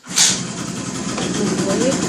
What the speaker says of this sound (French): Ouais, ça démarre normalement du premier coup.